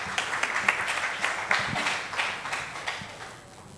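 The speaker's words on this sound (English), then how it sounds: "join me in applauding each one's presence and Arthur Sherry too" Audience applause at a trainers and speakers conference, a moderate patter of clapping hands with uneven bursts that gradually thin out and fade.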